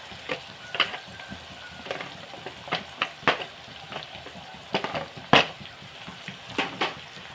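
Masala spices sizzle and fry in a pan for a brinjal and mango curry, with scattered ladle scrapes and stirring clatters over a steady low hiss, and no talking.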